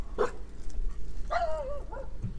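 Little puppies give a short yip, then a longer wavering whimpering bark and a softer follow-up whine, close by over a low background hum.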